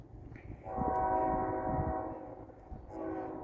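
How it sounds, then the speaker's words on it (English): Norfolk Southern freight train NS20Q, led by the Monongahela heritage locomotive, sounds its horn in two long blasts, the first swelling and fading, the second shorter, over a low rumble of the passing train. "This is NS20Q with Monongahela Heritage Unit leading."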